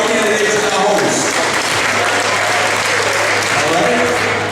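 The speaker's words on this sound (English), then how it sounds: "Round of applause for our candidates and our hosts." Dense, sustained applause from an audience at a community political forum on police accountability, loud and steady throughout with a faint crowd murmur underneath.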